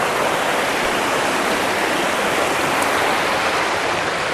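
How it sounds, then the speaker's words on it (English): Water rushing steadily down into the Mossdale Caverns cave system in the Yorkshire Dales, a loud, continuous broadband roar like a small waterfall, close by and unbroken, with no voices. "the water just comes down here"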